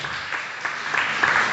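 Church congregation clapping hard at a Friday service, a dense wash of applause that swells toward the end, fairly loud and steady with no one speaking over it.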